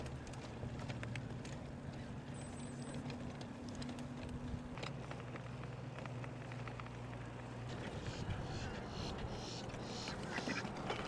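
Ducks quack intermittently at Lake Mirror in Lakeland, mid-distance, with steady wind noise from a moving bicycle and a brief faint bird call.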